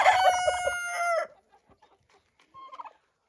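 A chicken gives a loud drawn-out call, followed by scattered soft clucks and a brief clucking burst.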